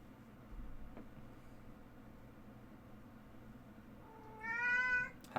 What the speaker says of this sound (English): That's not a bork. That's a meow.